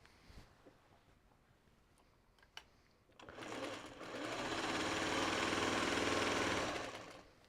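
A TL series sewing machine stitches quilt pieces made from a layer cake: a few faint clicks, then a rapid, steady mechanical whirr that swells and runs for several seconds close by, with no voices over it.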